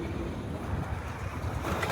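Fast-flowing floodwater of the Beas river in flood-hit Punjab rushes in a steady, dense roar, like close-by surging waves with some wind noise on the microphone.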